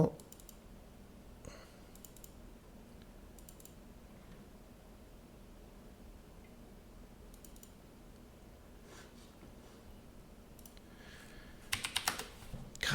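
Computer keyboard typing in an indoor room, quiet and steady clicking keys throughout with a low background hum, ending in a louder burst of clicks.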